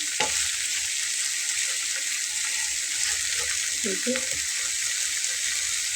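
Radish greens fry in a pan with a steady, moderate sizzling hiss, a few soft knocks and scrapes of stirring, and faint watery sounds in the background.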